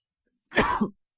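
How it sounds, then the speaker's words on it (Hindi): A single short, close cough or throat-clearing bursts out of silence and stops quickly. "यार खांसी हो रहा है, सॉरी।"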